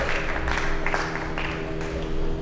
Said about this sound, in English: give those people a big round of applause too